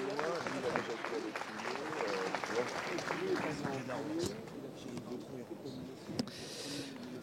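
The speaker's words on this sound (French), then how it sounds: "on peut l'applaudir et l'encourager, Maël Hassani." An audience at a radio awards show applauds in a steady, dense wash of clapping, with talk mixed in under it throughout.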